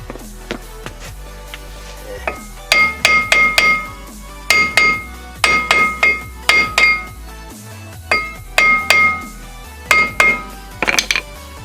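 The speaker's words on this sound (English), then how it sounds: "a couple good taps with the hammer, got it right off" A hammer striking a rusted ball joint on a car's front suspension, loud metallic clanks in quick bursts of three or four blows separated by brief pauses, ringing sharply with no talk.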